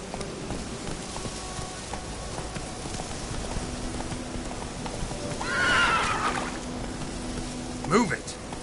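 Roach the horse in the video game Witcher 3 gives a loud whinny near the end, following steady galloping hoofbeats under game background sound.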